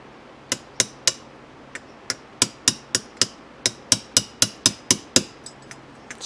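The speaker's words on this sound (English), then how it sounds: "let's see if we can knock that needle jet out" A hammer taps out the needle jet from the carburetor of a 1971 Kawasaki F7 motorcycle, about seventeen sharp metallic knocks spaced at a fairly steady pace, close and clear with no talking.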